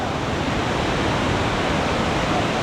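Mingo and Soco Falls in Cherokee, North Carolina, produce a loud, steady roar of cascading water, a dense unbroken rush heard up close with no voices.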